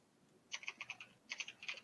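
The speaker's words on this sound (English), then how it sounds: "No, he's just fiercely typing, I think." Fast typing on a computer keyboard comes as two quick bursts of crisp key clicks, faint and a little distant, with a short pause between them.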